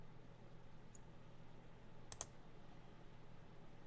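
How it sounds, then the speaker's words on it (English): Two quick, close mouse clicks in fast succession while clicking through prompts in the video game Panopticon, faint and isolated over a quiet, low background hum. "And the clicking of prompts begins."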